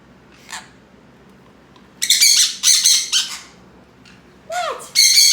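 Pet birds squawk in loud, harsh bursts, a sharp call near the start and then a cluster of raucous screeches with a rising whistle-like note, close by and with no talk.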